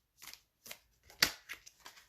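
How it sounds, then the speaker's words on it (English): A glossy, smooth, light deck of Mystical Tarot of the Saints cards is shuffled by hand in several short, soft riffling bursts, close and quiet, with one sharper snap in the middle. "I oftentimes just shuffle like this."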